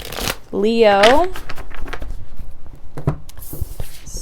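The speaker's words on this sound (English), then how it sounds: "Hopefully I can shuffle these cards this time." Tarot cards are shuffled by hand close up, a steady soft riffling and papery patter running for several seconds after a short spoken word.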